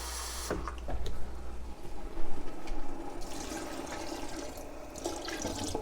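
Water from a half-filled tomato can is poured into a pot of bolognese meat sauce, a steady splashing and gurgling pour that runs for several seconds.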